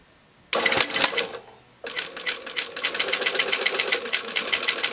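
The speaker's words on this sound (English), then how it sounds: "So I'm just going to start sewing." A sewing machine stitches elastic shirring at close range in two bursts: a short run, a brief pause, then a longer steady rattling stretch.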